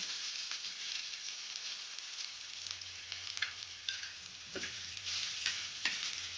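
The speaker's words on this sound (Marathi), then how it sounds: "याचं सारखं हलवत राहायचं हे तर तेल उडत" Chopped onions fry in hot oil in a pan while a spoon keeps stirring them, giving a steady bright sizzle with scraping clicks and stirring taps throughout, close and alone with no talk.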